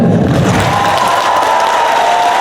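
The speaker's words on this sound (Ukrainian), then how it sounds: "Тому овації не втихали" Audience giving an ovation at a dance school awards show, steady loud applause from a crowd, continuous and even throughout.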